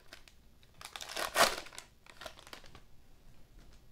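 Panini basketball card packs crinkle and tear open up close, a busy burst of foil crackling and rustling that peaks sharply midway, then trails off into scattered softer crinkles.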